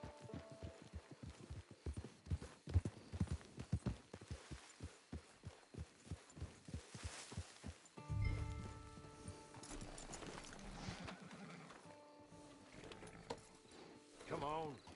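In a PS4 video game, a horse's hooves clip-clop in a steady, quick rhythm for several seconds. Softer game sounds and tones follow, with no talk.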